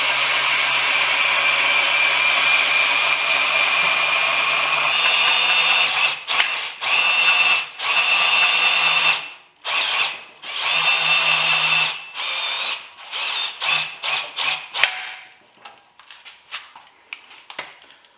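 A Ryobi cordless drill on its highest clutch setting drives a MoJack ZR 350 mower lift. The loud, close motor whine runs steadily, then breaks into repeated short bursts with pauses and fades at the end.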